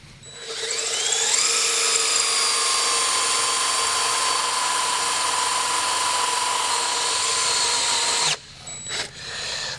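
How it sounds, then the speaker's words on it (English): A power drill boring into gray cast iron, whining up quickly and holding a steady high-pitched grind for about seven seconds before cutting off, with a few brief clunks afterward. "So now let's drill it to identify the chips."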